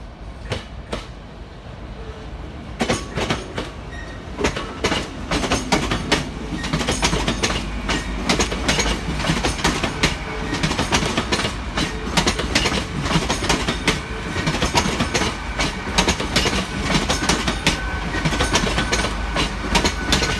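A Great Western Railway Class 800 passenger train rolls past at Gloucester station with a steady run of clickety-clack wheel beats over the rails, loud and close throughout.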